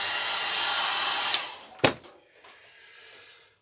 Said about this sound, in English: Let's just whack them with a hairdryer